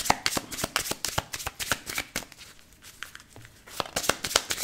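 Tarot cards being shuffled and drawn: a close, steady run of crisp riffling snaps and flicks, briefly pausing midway before the quick card slaps resume.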